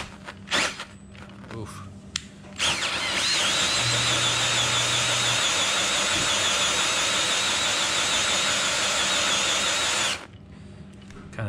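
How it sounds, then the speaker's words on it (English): A power drill scrubbing carpet with degreaser whirs loudly and steadily for several seconds, with a brief grunt beforehand and faint handling noises before and after. "We're going to hit it with the drill."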